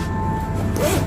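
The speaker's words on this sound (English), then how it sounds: "The zip is quite smooth." A zipper runs along a nylon pouch with a unicorn design, a close, smooth continuous rasp that rises slightly toward the end, heard alone without talk.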